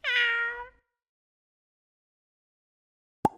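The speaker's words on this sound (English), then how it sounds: "cat," A single domestic cat meows once, close and clear, a drawn-out falling cry lasting under a second, followed by silence and then a brief click at the end.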